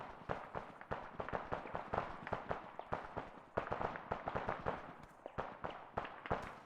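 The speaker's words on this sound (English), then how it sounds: "No, that is enemy shooting at us." Enemy gunfire aimed at a squad: dense, rapid cracks of shooting that run continuously with irregular rhythm and steady loudness from a moderate distance. No voices.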